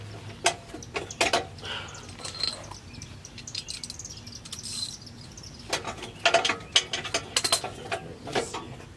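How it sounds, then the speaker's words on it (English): A ratchet wrench clicks in quick, uneven runs of sharp metallic ticks while an exhaust tip is fitted on a car. Brief pauses separate the bursts, and the sound is close and moderately loud, with no talking. "Ratchet wouldn't get stuck on here every time."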